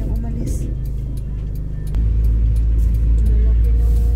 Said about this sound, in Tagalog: Lalaki ng mga truck dito.